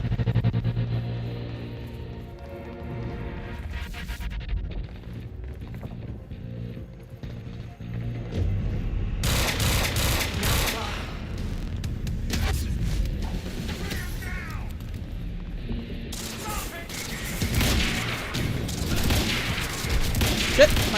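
Gunfire in the shooter Quantum Break, with several loud broadband shot bursts and booms breaking through a rumbling background across the stretch.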